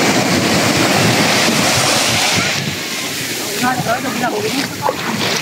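Ocean surf rushes and washes steadily up a natural beach at the Esplanade in San Jose, Antique, Philippines, with wind noise on the microphone and faint voices in the background.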